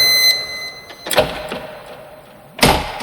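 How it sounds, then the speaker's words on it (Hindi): A door creaks and thuds twice, a sharp knock-like impact followed later by another loud bump, set in a quiet room as an effect in a horror story. "दरवाजे की आवाज आई।"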